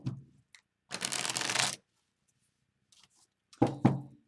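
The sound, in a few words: shuffling tarot cards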